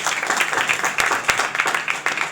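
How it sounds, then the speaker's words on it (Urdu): A church congregation claps in a scattered, uneven burst, with a few sharper individual claps standing out over a moderate crowd applause that carries on briefly. "زوردار تالیاں بجا"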